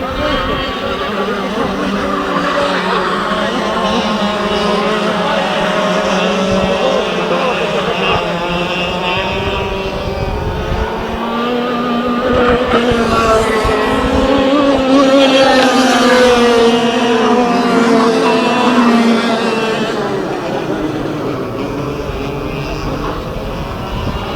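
A small go-kart engine drones loudly and close for the whole stretch during a karting race, its pitch rising and falling as it revs, swelling hardest near the middle.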